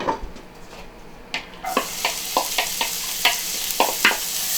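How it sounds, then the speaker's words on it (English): Onions sizzle in oil in a preheated skillet. The hiss swells loudly after a quiet start and is punctuated by regular scraping stirs against the pan. "We're going to first caramelize the onions. Put a little bit of oil here."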